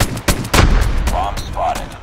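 Pistol fire in a search-and-destroy round of a first-person shooter: a few sharp, loud shots in quick succession with game effects and chirps trailing after.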